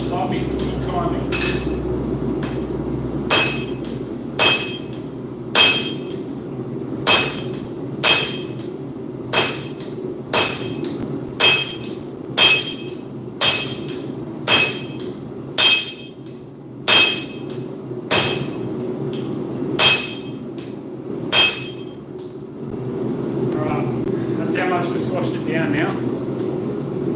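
A hammer forges hot steel into a cross peen with about a dozen sharp, ringing metallic strikes at a steady, unhurried pace over a low background hum.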